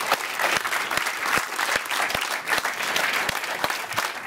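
An audience applauds a panel at the close of a discussion, with a steady patter of claps and a few sharper, nearer ones standing out over a few seconds.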